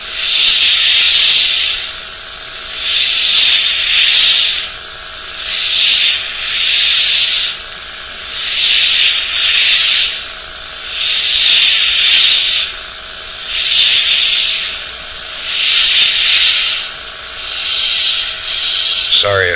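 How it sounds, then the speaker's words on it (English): An air compressor supplies about 20 psi to an airbrush painting a gill plate, producing a loud close hiss that comes in regular bursts of roughly a second, cycling on and off steadily. "when you hear the compressor running, it's giving me constant 20 pounds of pressure"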